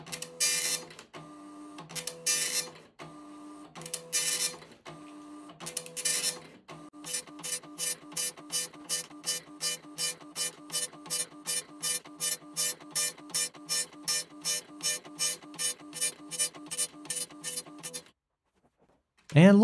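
An old retro printer running line-by-line graphics output: after a few irregular bursts, evenly spaced clicking strikes repeat in a fast steady rhythm for about ten seconds, close and alone, then stop.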